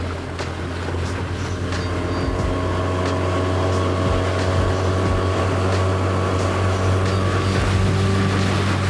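A Gheenoe's outboard engine runs steadily with a loud, constant drone and hum, wind and water rushing past, no talking.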